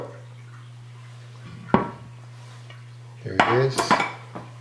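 A spatula scrapes around the edges of firm chickpea tofu in its dish, giving one sharp clink and then a cluster of scraping, clattering strokes against the dish over a low steady hum.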